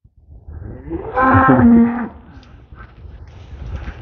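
A cow moos once, a long low call swelling in the middle, with quiet rustling and faint farmyard noise around it.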